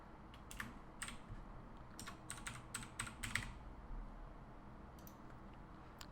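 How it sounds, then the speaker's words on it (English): Quick bursts of keystrokes clatter on a computer keyboard, clustered light clicks in short runs with brief pauses, close and quiet, with no speech. "I'm just gonna type in brush reveal."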